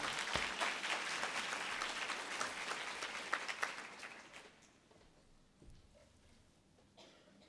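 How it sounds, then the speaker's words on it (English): An audience applauds to welcome a speaker at a literacy teaching talk, with steady clapping that fades after about four seconds into quiet room tone and a few stray sounds. "please join me with a round of applause to welcome Dr. Ernest Morrell."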